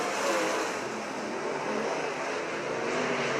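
Race cars in a Thunderbird heat race roar past in a sustained, throbbing engine drone that swells slightly as the pack circles, steady and moderately loud, with a race announcer's commentary faintly underneath.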